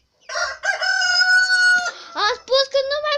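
A rooster crows loudly and close by, one long drawn-out cock-a-doodle-doo followed by shorter broken calls.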